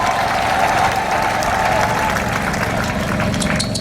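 Large outdoor crowd at a rally for President Félix Tshisekedi in Uvira, clapping and cheering in a dense, continuous roar that stays loud and even throughout.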